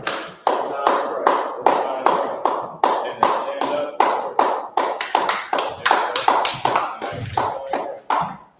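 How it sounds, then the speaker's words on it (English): Audience clapping hands at a religious class, a loud, brisk, continuous run of near, sharp claps with an uneven rhythm and no talk over them. "clap it up for the Lord's Pastor."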